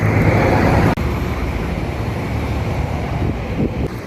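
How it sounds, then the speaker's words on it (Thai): Fast, turbulent floodwater rushes near a school gate in flooded Ban Kut Kwang, Khon Kaen, making a loud, continuous broadband roar that is partly mixed with wind buffeting on the microphone. "น้ำไหลแรงไหลเชี่ยวมากเลยครับ"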